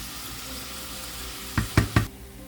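Browned venison sizzling in a pan under a continuous background hiss, with three quick, loud knocks of a utensil close by near the end.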